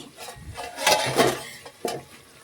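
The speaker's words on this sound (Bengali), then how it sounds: "এইভাবে কষাতে কষাতে শুকিয়ে নিচ্ছি কড়াইয়ের মধ্যে" Cauliflower and potato are stirred in spices in a wok: close scraping and clattering of a utensil against the pan, in a few uneven strokes with short gaps between them.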